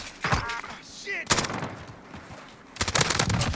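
Bursts of rapid machine pistol fire ring out in the Warzone video game, three loud automatic volleys separated by short pauses, with a voice talking briefly between them.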